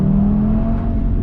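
An Audi Quattro engine pulls away at low RPM with a loud, steady, deep rumble and a faint whir on top, close by and heard alone.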